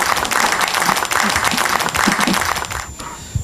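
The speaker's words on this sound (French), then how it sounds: "Nous allons applaudir et écouter le professeur Charles Benham Bikoy" Audience applause at a book signing, dense steady clapping from a seated crowd that fades near the end, close and loud.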